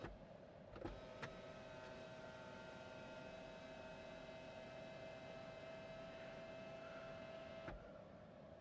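Electric motor of a Toyota Corolla Cross Hybrid panoramic roof running inside the car, a steady faint whine that holds evenly for several seconds between two soft clicks at start and stop.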